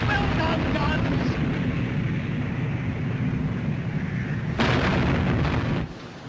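Naval gunfire from warship turrets in a film battle at sea, a continuous heavy rumbling roar of guns and engine noise with a brighter burst of blast near the end, loud and booming.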